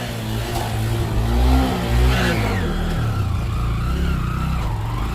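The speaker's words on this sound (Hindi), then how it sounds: "गाड़ी चालू हो गई" A kick-started motorcycle engine catches and runs at a steady mid-pitched idle, revving up briefly a couple of times, close and loud throughout.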